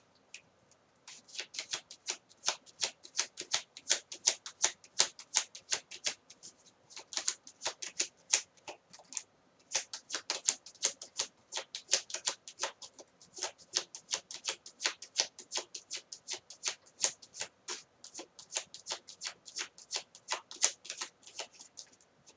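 Tarot cards shuffled by hand, a long run of crisp rapid riffling clicks in quick bursts with brief pauses between, close and fairly quiet with no talking.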